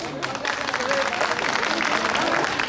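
An audience claps loudly and steadily at a television arts festival, a full round of applause with faint voices mixed into the crowd noise.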